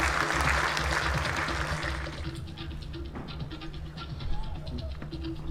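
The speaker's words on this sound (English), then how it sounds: "Let's give them another round of applause" Audience applause for the judges and scrutineers at a Miss Samoa NZ pageant, broad clapping from a large crowd that fades gradually, with voices mixed in near the end.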